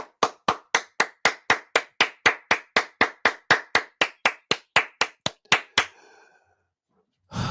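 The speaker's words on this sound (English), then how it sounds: "I'm clapping sarcastically." A single person claps about twenty times in a steady, even rhythm, close and sharp, then stops abruptly, leaving quiet.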